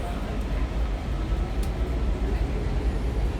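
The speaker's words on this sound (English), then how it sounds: "Silver Line train coming in now." A Washington Metro Silver Line train arrives at an underground station platform, a steady loud low rumble of wheels and motors rolling in without pauses or distinct clanks.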